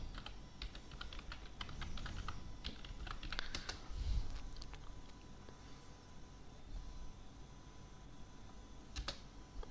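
Typing on a computer keyboard produces quiet, close, irregular key clicks in short bursts over a faint background hum.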